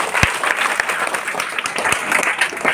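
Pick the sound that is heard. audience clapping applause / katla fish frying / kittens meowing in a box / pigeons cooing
audience clapping applause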